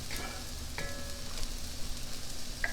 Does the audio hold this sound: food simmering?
yes